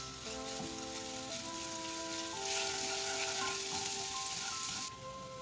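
Crushed garlic frying in a tablespoon of oil gives a steady, close sizzle that runs the whole time, with background music playing over it.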